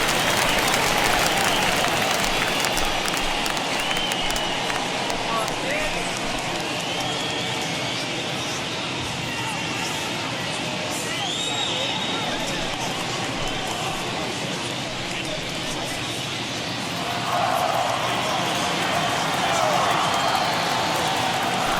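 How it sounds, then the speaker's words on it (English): A baseball stadium crowd from the video game MLB The Show keeps up a dense, steady roar of cheering and chatter throughout, with a slight swell near the end and a commentator's voice over it. "the home crowd seems a little restless"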